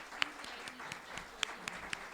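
An audience at a League of Women Voters legislative forum gives a short round of applause: faint, scattered claps with a few sharper hand strikes over a soft room hum.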